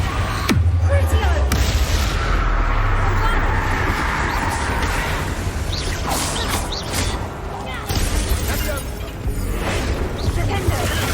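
Confringo blasting spells erupting one after another in Hogwarts Legacy combat, loud booming crashes over a dense, constant roar of battle and spell effects, with voices shouting throughout.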